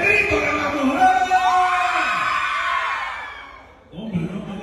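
Women in a crowd at a patronal festival dance in Jicayan de Tovar shout and whoop together, a loud rising cheer with pitched yells that swells and then fades, before louder voices return.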